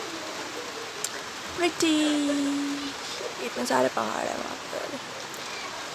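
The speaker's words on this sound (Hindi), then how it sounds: "आपको सुनाई दे रहा होगा अभी बारिश स्टार्ट हो" Rain falls steadily outdoors in a hilly area, making a constant soft hiss under a person talking in Hindi.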